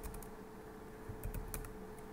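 Keys clack on a computer keyboard while a systemctl start command is entered at a CentOS 7 terminal, a quick run of light, close keystrokes over a faint steady hum with no speech.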